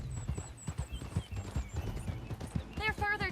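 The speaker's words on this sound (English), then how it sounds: "Get on your horse." Horse hooves clip-clopping at a quick gait in the Red Dead Redemption 2 video game, a steady rhythmic run of close hoof beats under speech, ending with a horse's whinny.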